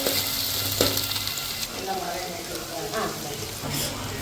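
Onions, shallots and curry leaves sizzle steadily in a hot pan, with occasional scrapes and clinks of stirring breaking through the crackle.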